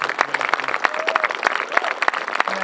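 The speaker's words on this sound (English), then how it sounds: "If you can help me give a round of applause to all those people" Applause for teachers and staff at a charter school groundbreaking ceremony, a small crowd clapping steadily with sharp individual hand strikes throughout.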